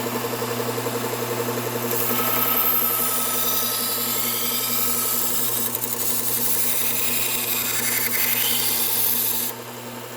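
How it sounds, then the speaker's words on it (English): A Bucktool low-speed belt sander with a Cubitron 120 belt hums steadily while a knife is ground against it at about 16 degrees, a continuous close abrasive rasp over the motor drone that drops off near the end. "Cubitron 120, Bucktool Low Speed Sander"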